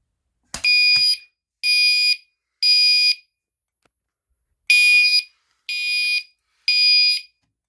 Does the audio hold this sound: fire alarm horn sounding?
yes